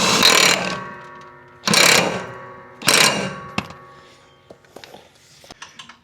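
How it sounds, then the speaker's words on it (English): Impact wrench working the blade bolts on a Bad Boy 60-inch zero-turn mower: three loud, close, buzzing bursts of about half a second each, evenly spaced, then a few faint clinks and taps. "But this impact I got here, you see how easy it is to take them off."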